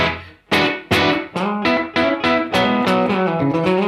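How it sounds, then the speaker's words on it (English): An electric guitar runs through a UAFX Enigmatic '82 amp pedal with its room sound setting. About seven strummed chords ring out one after another in a steady rhythm, each sustaining into the next, loud and close with no talking. "make the amp sound like it's in the room, which actually sounds really, really good"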